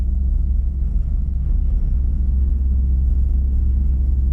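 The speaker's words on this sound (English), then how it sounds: "You can hear the engine noise a little bit." Inside a Renault Twingo SCe 65 cruising at 90 on new asphalt, a steady low engine drone and road rumble hum continuously, fairly loud and even, with no talk.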